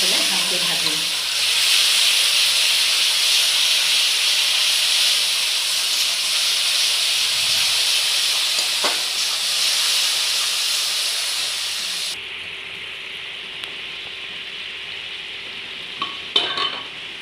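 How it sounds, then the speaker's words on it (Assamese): Ground mustard frying in a pan, a loud continuous sizzle and hiss up close with occasional scrapes of stirring, fading noticeably quieter partway through before a few utensil clinks at the end. "এইবাৰ বটি লোৱা সৰিয়হখিনি মই ইয়াত দি পেলাই ভালকৈ ভাজিম।"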